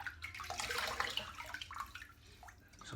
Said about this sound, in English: So I'm just going to wet my face a little bit,